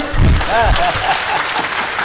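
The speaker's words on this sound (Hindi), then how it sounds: "बजाओ ताली" An audience at a Jain religious discourse bursts into loud, close clapping that peaks early and then thins out, with voices mixed in.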